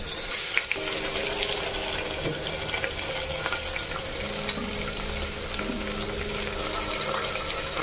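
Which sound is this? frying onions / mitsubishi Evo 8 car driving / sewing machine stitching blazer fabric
frying onions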